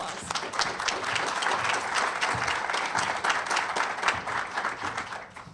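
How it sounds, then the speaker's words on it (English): A room full of people applauds, a dense steady wash of clapping that continues evenly for several seconds. "let's give the panelists a round of applause."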